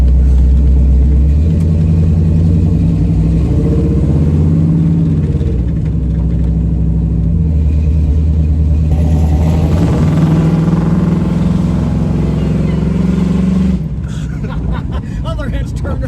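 A 1967 Pontiac Firebird with a 400 engine rumbles and accelerates around a corner, a loud deep engine note rising and falling under people talking throughout.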